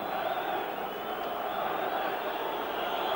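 Bulgarian football crowd roaring steadily in a stadium during a 1987 European Championship qualifier against Ireland, a continuous broad wall of massed voices with no break.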